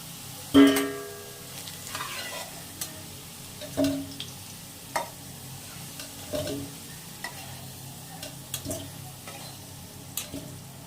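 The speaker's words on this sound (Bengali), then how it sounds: "ভালো করে লাল লাল করে ভেজে নেব" Potatoes fry in a pan until browned, giving a soft steady sizzle broken by several sharp clinks and scrapes of stirring spaced through the clip.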